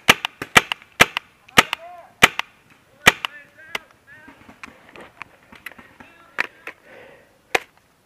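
Sharp cracking shots from a magfed paintball marker striking wood during an outdoor woodland game, fired singly and in quick pairs at irregular intervals, with people talking in between.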